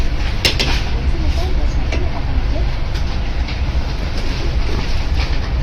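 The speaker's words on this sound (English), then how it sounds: "We are traveling in the business class of Indonesian bullet train." Inside the business-class cabin of Indonesia's Whoosh high-speed bullet train, a loud, steady low rumble and rushing whoosh of travel fills the space with no break.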